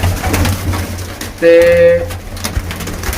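A pigeon coos once, a loud, close, low warbling call in the middle, amid background noise and brief speech.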